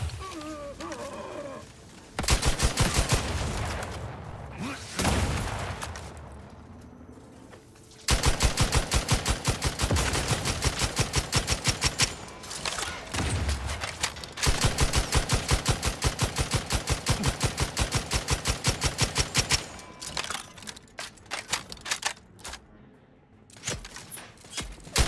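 Rapid automatic gunfire from a rifle in The Outer Worlds 2, loud and close, coming in long sustained bursts of fast regular shots with brief pauses between them.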